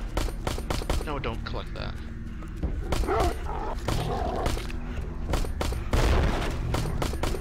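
Rapid bursts of gunfire from the VR zombie shooter Into The Dead, Massacre mode, as barrels are shot, with loud repeated cracks and booms, barking zombie dogs and a brief spoken voice over the din.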